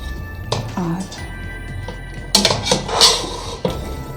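Chicken spaghetti being mixed in a pan, with utensil scrapes and clinks against cookware in several short bursts, loud and close, alongside someone talking.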